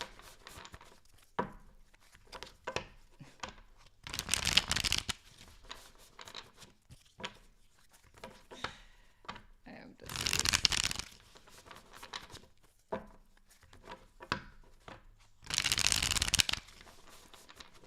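Tarot cards are shuffled in three loud, dense bursts of riffling, each lasting about a second, with quieter handling, soft rustles and taps of the deck in between.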